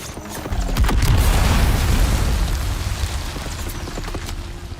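A bomb explodes in the video game Dune Awakening with a deep, loud boom. The rumble swells quickly and then tails off slowly over several seconds.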